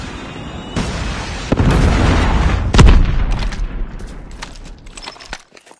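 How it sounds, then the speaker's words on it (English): Predator missile strike explosions in Call of Duty Mobile, a loud booming blast followed by a second heavy impact and rumbling debris that fades out to near silence. "Predator missile inbound."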